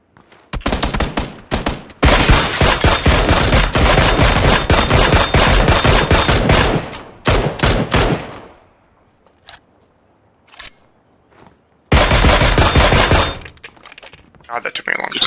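Enemy gunfire in PUBG: loud, rapid bursts of automatic shots crackle close by in long sustained runs, broken by a quiet gap and a few isolated shots before another heavy burst.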